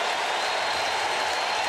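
Large crowd at Busch Stadium in St. Louis cheering and applauding during a 2005 National League Division Series playoff game, a steady broad roar of clapping and voices with no break.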